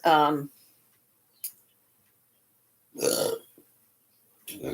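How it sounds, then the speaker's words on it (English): A short voiced belch opens the clip, followed by quiet pauses and two more brief throaty bursts, all close to the mic in a quiet room. "And burping, of course."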